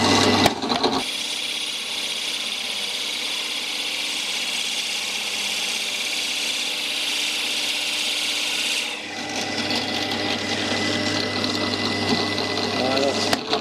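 A Forstner drill bit bores into material with a continuous close, loud grinding rasp and whir. The tone shifts partway through as the cut changes, and a voice speaks over the machining.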